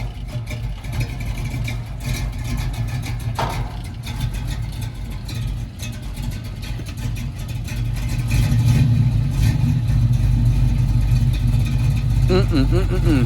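A 1969 Chevrolet Camaro engine with a soft cam idles steadily with a low rumble, growing slightly louder and deeper partway through; a voice talks briefly over it.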